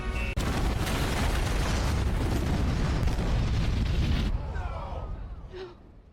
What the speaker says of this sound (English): the bunker erupts in a massive explosion